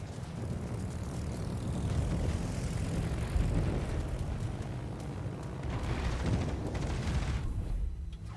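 Aircraft in the naval game World of Warships roar steadily under heavy anti-aircraft fire, a loud continuous engine drone with rumbling bursts, and no voices.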